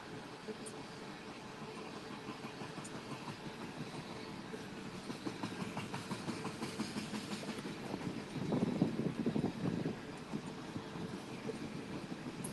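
Kansas City Southern freight train made up of oil tanker cars rolls past steadily at moderate distance beside the Mohawk River, a continuous rumble with faint clickety-clack, swelling briefly toward the end.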